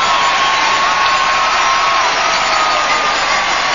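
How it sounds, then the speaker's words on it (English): Arena crowd at the 2000 World Figure Skating Championships ice dance free dance erupting in loud, sustained, near-frenzied cheering and whooping, a dense unbroken roar. "reaction from the crowd which borders on bedlam"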